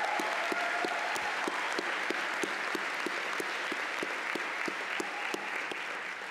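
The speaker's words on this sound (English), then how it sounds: "Can we have one more round of applause for the faculty jazz quintet," Sustained applause from an audience at a university spring commencement ceremony, steady dense clapping throughout with a few sharper individual claps standing out, no speech.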